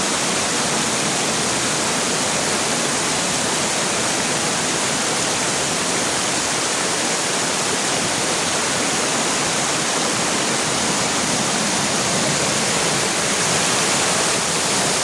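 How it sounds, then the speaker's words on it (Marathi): Water rushes and gurgles steadily, a loud, continuous flow of a spring-fed stream at the foot of a hill in Konkan, heard close up with no other sounds. "किती छान असं खळखळ पाणी वाहत आहे दुधासारखं"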